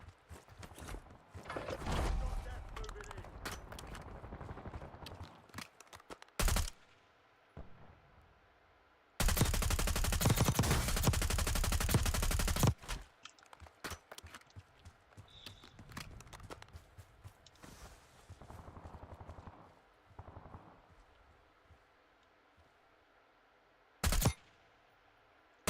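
Gunfire in a video game comes as scattered bursts: a long, loud sustained volley in the middle, several sharp single shots, and quieter clattering and shuffling between them.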